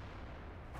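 An artillery shot fired from an M12 self-propelled gun in World of Tanks lands as a dense, rumbling boom that fills the whole clip, heavy and sustained with a slight swell near the end.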